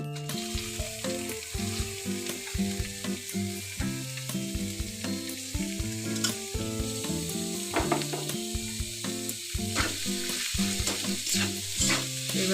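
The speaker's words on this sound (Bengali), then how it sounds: "এবার আমি দিয়ে দেবো গ্রেট করে রাখা ফুলকপিগুলো।" Grated cauliflower hisses and sizzles loudly in oil with ginger in a pan, a continuous frying crackle with occasional stirring scrapes throughout, close up and uninterrupted by voices.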